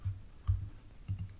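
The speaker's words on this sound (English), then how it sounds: "Click." Three quick mouse clicks on a computer while working in QGIS, short dry taps spaced irregularly in a quiet room.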